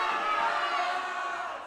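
Basketball crowd at a high school senior night game roars steadily through a free throw, a dense, loud wash of cheering and shouting voices that fades slightly toward the end.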